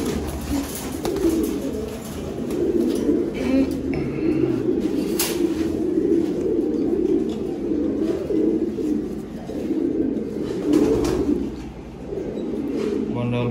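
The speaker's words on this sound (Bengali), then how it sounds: "এটা হচ্ছে ন্যাশনাল ইসবার্ড কবুতর।" Racing pigeons coo steadily in a loft, their low throaty murmurs overlapping without pause, with faint chirps and soft background voices beneath.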